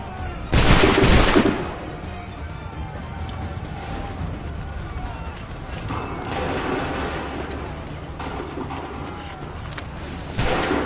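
A ship's cannons and guns fire a volley in Assassin's Creed III, opening with a loud booming blast, then a clattering mechanical rumble and scattered shots, with another heavy report at the end.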